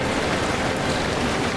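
Steady rain falls across a scene in a Hindi animated story, a dense, even hiss of drops that fills the whole moment with no voices over it.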